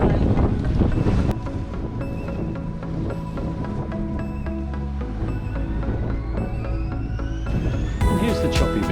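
A Sadler 26 sailboat in choppy water and wind: loud continuous wind buffeting the microphone over water rush and hull noise, with steady tonal hums running underneath.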